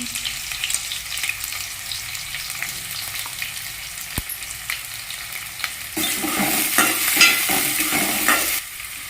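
Onions fry with cloves, cinnamon and chillies in a pan, giving a soft sizzle broken by occasional stirring. About two thirds of the way through, the frying turns louder and brighter with busy spatula scrapes, then eases off just before the end. No one talks.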